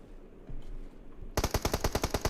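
Rapid automatic gunfire erupts in a battle-royale video game tournament match, a loud rhythmic burst of about ten evenly spaced shots following a quieter lead-in.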